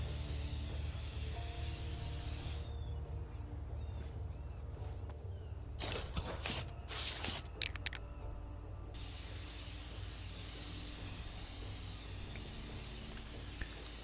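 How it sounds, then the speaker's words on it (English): Spray can hissing in the video game inFAMOUS: Second Son, several short aerosol bursts in the middle over a low game ambience, no talking. "Start spray paint and stuff."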